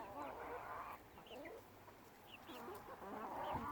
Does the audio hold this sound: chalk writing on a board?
no